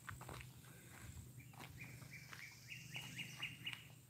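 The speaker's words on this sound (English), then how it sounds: "that type of bird is called a warbler" Warblers sing loud, repeated bright chirping phrases in a wooded area near a river, building through the clip over soft footsteps and low background hum.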